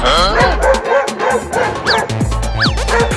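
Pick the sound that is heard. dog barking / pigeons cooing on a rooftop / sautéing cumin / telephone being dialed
dog barking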